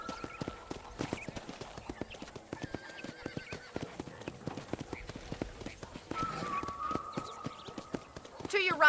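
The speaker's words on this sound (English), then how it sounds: "let's see if you can still ride a horse." Horse hooves clip-clop in a steady rhythm with a brief whinny while riding in Red Dead Redemption, mixed with game-like background sounds and faint tones.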